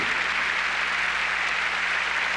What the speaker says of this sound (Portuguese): Vamos agora aplaudir Jesus